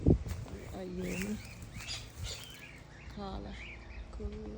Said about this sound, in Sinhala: කොහොමද කුරුල්ලන්ගේ සද්දේ බෑග්ග්‍රවුන්ඩ් එකේ ලස්සනයි නේ